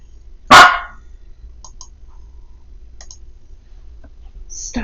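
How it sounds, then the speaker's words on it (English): A small dog gives one loud, sharp bark close by, then only a few faint clicks and ticks follow in an otherwise quiet indoor room. "my little dog was being naughty"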